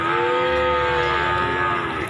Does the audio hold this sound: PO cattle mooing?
yes